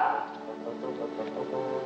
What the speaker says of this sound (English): Well, there's your dog anyhow. You better call him.